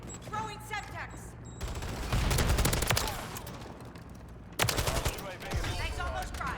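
Automatic rifle fire in Modern Warfare 3 multiplayer, a Kastov 74U among the guns, with dense bursts and overlapping shots that swell to a sustained loud clatter, a sharp new volley near the end, and faint talk underneath.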